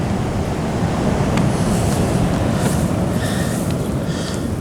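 Big ocean surf pounding a New Zealand coastline, a loud continuous roar of breaking waves mixed with wind rumble on the microphone, no voices.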